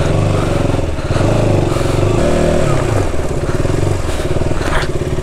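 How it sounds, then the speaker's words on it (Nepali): A KTM Duke 200 motorcycle engine runs close and loud, a steady throbbing idle with slight revving and some clatter, continuing without pause. "साथी तल बाहिर बाइक निकाल्दैछन्"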